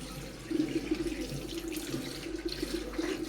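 A tap runs while a child's hands and mouth are washed at a sink, a faint, steady stream of water with soft splashing.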